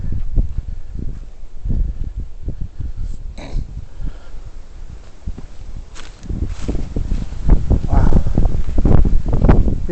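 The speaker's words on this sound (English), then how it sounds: "You can hear that wind" Wind gusting through a dark city park at night, a steady broad rush with buffeting microphone noise, accompanied by footsteps and rustling throughout and swelling louder toward the end.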